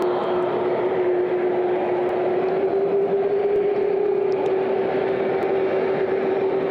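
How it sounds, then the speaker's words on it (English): A jet plane taxis on the tarmac at Andrews, a steady whining engine drone with a sustained tone holding level throughout, moderately distant and continuous with no voices. "That plane will taxi down the tarmac here at Andrews."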